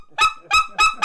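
Four loud, squealing turkey-call notes in a quick, even rhythm, each a sharp harmonic-rich yelp struck on a mouth call without any scratch, standing alone with no voices.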